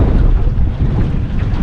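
Strong wind buffets a microphone out on a creek from a small boat, a loud, steady low roar and rumble with no pauses, drowning out any other detail.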